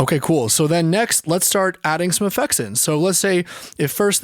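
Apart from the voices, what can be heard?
No distinct noise like a dog, phone or traffic.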